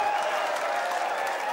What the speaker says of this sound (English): I think even the Welsh fans were applauding.